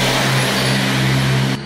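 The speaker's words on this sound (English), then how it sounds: "An old truck going up." An old truck labours up a hill nearby with a steady, strained engine drone that drops off sharply at the end. No one speaks.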